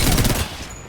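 A loud burst of rapid gunfire from Apex Legends rattles for about half a second, then cuts off into a quieter, hissing tail.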